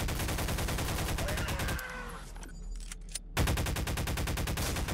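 Rapid rifle gunfire in Garry's Mod, a dense automatic burst that cuts out briefly mid-clip before resuming just as loud and fast, with no voices over it.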